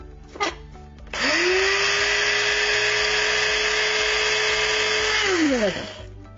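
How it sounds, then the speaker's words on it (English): A coffee grinder chewing through dried moringa leaves: a loud, steady high-pitched motor whine spins up after a brief knock, holds for about four seconds, then winds down, with no voices. "I put them into coffee grinder"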